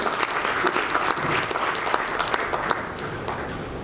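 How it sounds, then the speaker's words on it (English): A conference audience at a 2018 air cargo industry event claps for several seconds: dense, steady applause from a seated crowd, fairly close and without cheering. "Ladies and gentlemen, big round of applause."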